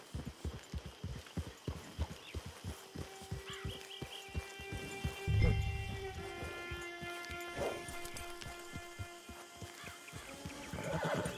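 A horse in the Western video game Red Dead Redemption Online whinnies loudly over a steady run of clip-clopping hooves, with a few more softer snorts and neighs following near and clear.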